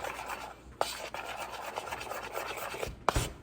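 Protein pancake batter is stirred by hand in a bowl without a whisk, producing faint scraping and rubbing strokes in an uneven rhythm, with a couple of sharper knocks against the bowl.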